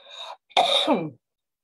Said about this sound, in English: I have a little bit of a cough, so if I start coughing, I apologize